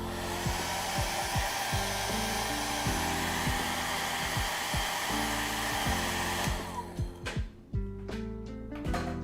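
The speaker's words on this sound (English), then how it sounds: "Hair dry this." A hair dryer blows loudly and steadily for several seconds, then cuts into short on-off bursts near the end, with faint clatter around it.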